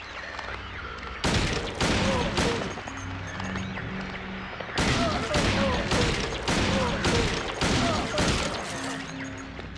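Repeated pistol shots from the survival horror game Silent Hill 2, sharp loud cracks in irregular bursts, several fired close together, with some thuds and impacts mixed in and no talking.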